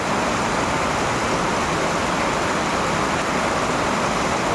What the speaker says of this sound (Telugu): చూడండి ఎలా పడుతుందో